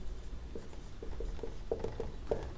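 Hand writing for a maths lesson on an arithmetic progression: a steady run of short scratchy strokes, close and fairly quiet over a soft background hiss.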